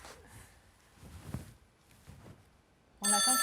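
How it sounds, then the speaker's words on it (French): A telephone bursts into a loud, steady ring near the end, after a quiet stretch of faint room noise and soft movement, heard during a gendarmerie briefing just before the call is answered. "On attend que le téléphone sonne."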